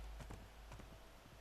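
In The Last of Us video game, horse hooves clip-clop in a steady walking rhythm, faint and low under a muffled background.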